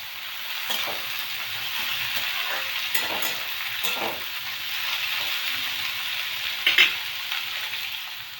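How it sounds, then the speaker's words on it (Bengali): Carrots, beans, capsicum and peas fry in ghee, giving a steady close sizzle with occasional stirring scrapes and a brief louder clatter near the end, no talking. "এবার আস্তে আস্তে গাজর, বিনস, ক্যাপসিকাম, মটরশুঁটি দিয়ে ভেজে নেব।"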